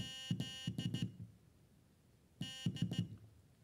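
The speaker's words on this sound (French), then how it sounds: "là, on génère juste une seule tonalité." A Flipper Zero emits Morse code beep tones, two clusters of short, sharp electronic bleeps with buzzy harmonics separated by a pause, heard up close with no talking.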